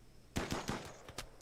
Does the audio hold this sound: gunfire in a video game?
yes